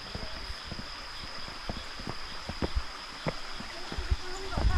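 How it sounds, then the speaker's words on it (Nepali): Water runs steadily through a traditional water-powered ghatta mill in a Nepali village, with a continuous nearby gurgle broken by small knocking clicks and faint voices in the background. "यो पानी घट्टा भन्छ होइन"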